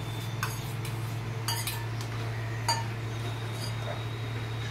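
A spoon stirs a powdered milk mixture into thickened milk in a pot for misti doi, giving a few sharp, separate clinks against the metal over a steady low hum.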